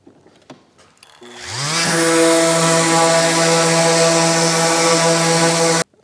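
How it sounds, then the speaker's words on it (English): A power sander smooths wooden skirt boards. The motor whirs up to a loud, steady whine, holds for several seconds, then cuts off abruptly. "with my skirt boards, I always hit them with a sander, get them nice and smooth before I install them"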